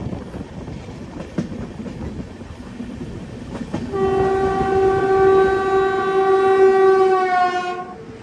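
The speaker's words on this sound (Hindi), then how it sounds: "Departure from Hazrat Nizamuddin, first crossing from Trivandrum Rajdhani." Inside a First AC coach of the Trivandrum Rajdhani Express, a passing train's horn sounds in a long, loud steady blast lasting about four seconds over the low rumble of the moving carriage.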